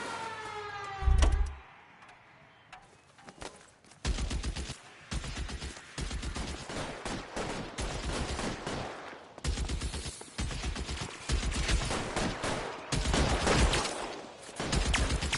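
Rapid gunfire in Grand Theft Auto, bursts of automatic shots and fusillades crackling loudly from about four seconds on, with a siren wail near the start, no speech.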